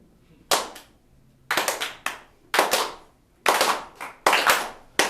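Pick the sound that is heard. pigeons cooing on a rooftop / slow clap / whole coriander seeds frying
slow clap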